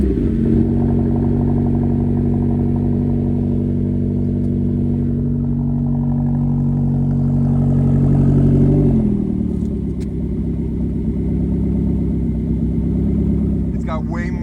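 A McLaren GT's engine revs with a deep, rumbling burble, held loud and steady before dropping to a lower idle partway through, with talking over it.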